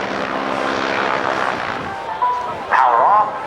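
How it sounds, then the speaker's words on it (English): An open-cockpit aerobatic propeller airplane spins toward the ground with power off during the 2008 NAS Oceana airshow, heard as a distant airy drone with a wavering whistling tone rising near the end. "Power off, spinning the airplane toward the ground."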